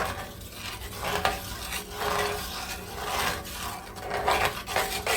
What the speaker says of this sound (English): you're going to want to mix this until it thickens up some